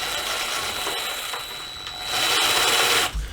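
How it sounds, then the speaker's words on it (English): A power drill spins in reverse, boring through the wooden top piece of a pocket door frame during a mobile home renovation. It whines in a continuous close-up buzz that rises louder near the end, then cuts off. "You can run your drill in reverse and, with enough time and friction, bore or burn your way through the top piece"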